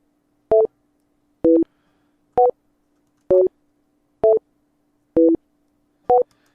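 Seven short synth chords from Ableton Live, each a note stacked with a copy pitched up seven semitones by a MIDI effect, pulse at an even pace about once a second. They play clean and isolated over a faint steady hum.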